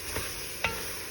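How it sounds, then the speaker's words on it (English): Vegetables for a chicken, sausage and shrimp gumbo are stirred in a pan, making two brief scraping strokes over a steady background hiss, with no one talking. "Stir that up a little bit."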